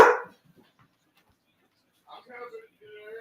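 A dog indoors at home lets out one loud, sharp bark right at the start. A short quiet follows, then people's voices talk softly.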